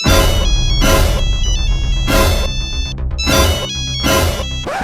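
A phone ringtone rings in repeated loud bursts with short gaps between them, playing over a continuous musical backing.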